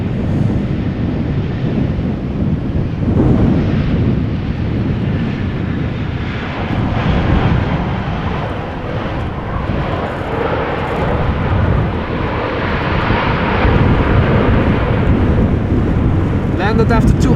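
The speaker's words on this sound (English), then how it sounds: "Top Air Portugal up next, A320 flight 670 coming to Amsterdam from Lisbon" A TAP Air Portugal Airbus A320 landing at Amsterdam Schiphol in stormy weather gives a long, continuous engine roar blended with heavy wind noise, swelling and easing without a clear break.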